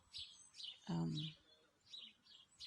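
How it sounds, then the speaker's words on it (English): Birds chirp in a garden with faint, repeated high tweets throughout, while a voice speaks briefly in the middle. "And the birds have all come back. Sometimes that's all you hear."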